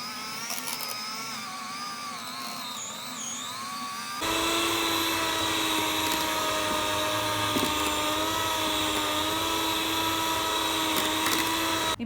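A hand mixer whips a sugar-free homemade chocolate ice cream base, starting with a whine and then running louder and steadier at a constant high pitch, close and alone with no talk.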